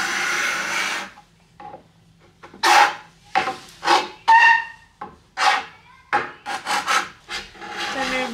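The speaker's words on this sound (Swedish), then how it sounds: "Snabbt bytt mina byxor så att jag kan påbörja skrapandet där ute." A wooden sofa is scraped with a metal scraper in a series of about a dozen loud, rasping strokes. They come in uneven bursts separated by short pauses.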